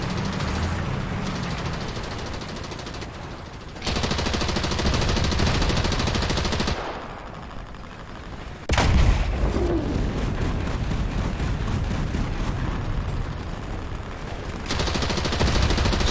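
Ju 87 G Stuka aircraft in a flight simulation game fire on gun runs, with long stretches of rapid, loud cannon and machine-gun bursts and a sharp impact near the middle, broken by brief quieter gaps.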